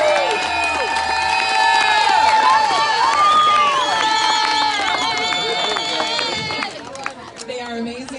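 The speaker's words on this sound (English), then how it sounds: "let's give a big round of applause to the Lobster Trap, Caleb Wins, and the whole crew" A large crowd cheers, shouts and whistles with scattered clapping, a dense loud swell that fades toward the end.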